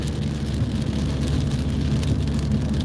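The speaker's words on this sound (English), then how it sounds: "I like the sound of rain." Steady rain falls outside with no break, a dense hiss with a low rumble underneath. It stays loud and even throughout, with no voices.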